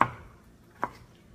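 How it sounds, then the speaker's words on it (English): A knife cuts potatoes on a board, two short sharp chops about a second apart, close and otherwise quiet. "We're gonna get the rest of these potatoes cut."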